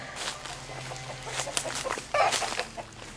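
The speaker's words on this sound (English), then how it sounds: "chickens and turkeys a little more room than what they have right now" Chickens and turkeys cluck in a yard: several nearby calls overlap and come in short bursts, with a louder, denser stretch toward the end over a steady low background hum.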